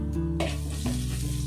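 Chilli garlic Maggi ingredients sizzle and fry steadily in a pan, a continuous close hiss with a brief stirring scrape partway through, no voices.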